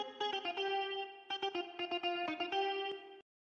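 Reverb-heavy synth notes from a remake of Iba One's "Tout va bien" play in a choppy, repeating pattern, washed in a chorus-like shimmer, then cut off abruptly with no voices.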